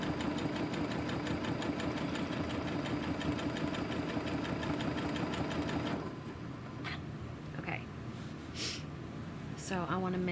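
A sewing machine runs steadily during free motion quilting, its fast even needle chatter close and loud for about six seconds, then stops, leaving quiet room noise and a few faint movements.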